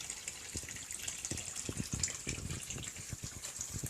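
Rainwater runs steadily down small earthworks beside a road to soak into banana beds, a continuous close gushing and trickling flow with no one talking.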